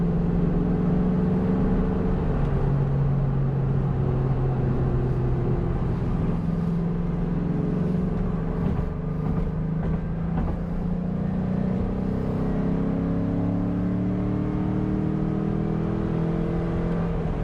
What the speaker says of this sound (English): The engine's pinging. This car is not quick.